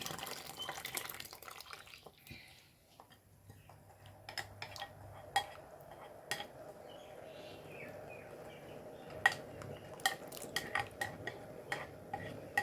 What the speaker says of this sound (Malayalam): എന്നിട്ട് ഒന്ന് ഇളക്കി കൊടുക്കാം കേട്ടോ